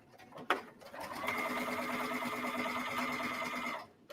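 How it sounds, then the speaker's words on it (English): Up close, a sewing machine stitches a fabric book pocket seam in one steady, fast-running burst of a few seconds, preceded by a sharp click, with no voices. "And then I'm going to sew with, like I said, a 3/8 inch to between a 3/8 inch and a 1/4 inch seam allowance."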